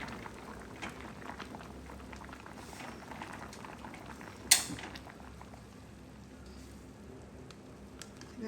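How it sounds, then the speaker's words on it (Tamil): Soft, steady bubbling of water boiling with cassava in a pot, with a faint sharp clink partway through and quiet kitchen background. "மரவள்ளி கிழங்கு வந்து நல்ல வடிவாக அவிஞ்சிட்டுது நான் அடுப்பை நிப்பாட்டி கொள்ளுவோம்"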